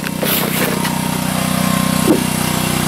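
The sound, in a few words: DC generator running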